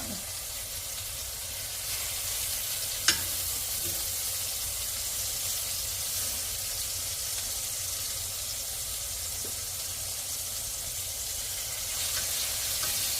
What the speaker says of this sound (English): The seasoned side is gonna go down to the cast iron. And that's the sound you wanna hear when you put a steak on